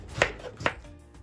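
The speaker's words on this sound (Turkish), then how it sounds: "Mor lahanayı ince ince doğruyorum." Two crisp knife chops through red cabbage on a cutting board, evenly spaced and close up, with a short pause after.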